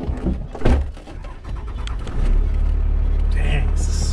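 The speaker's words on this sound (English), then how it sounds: "Going for a ride in the truck." People talk over car door and cabin sounds, then a steady low diesel rumble from a 24-valve Cummins pickup truck settles in as the truck gets moving.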